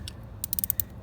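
A ratchet turning a 10 mm socket on a Honda Bali scooter gives about five quick, crisp clicks in a short rhythmic run. The clicks are close and fairly quiet against a low background hum, with no talking.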